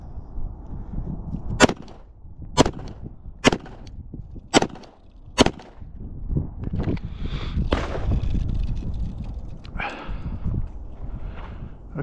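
Five sharp pistol shots from a Glock 17 Gen 4 with an RMR-cut slide, fired singly at a steady pace about a second apart, loud and close, then only rustling handling noise and faint ambient sounds.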